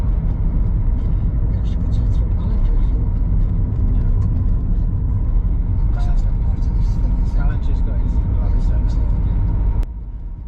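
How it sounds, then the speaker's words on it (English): A car drives along a road in the Lee, Buckinghamshire, its low engine rumble and road noise steady and close from inside the cabin, with faint voices over it before the sound drops abruptly near the end. "let's get in the car and let's go."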